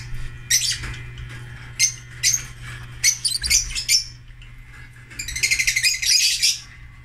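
Fischer's lovebirds in breeding cages chirp in short, high, sharp bursts, scattered single calls then a rapid run of chirps, fairly close over a low steady hum, with no talking.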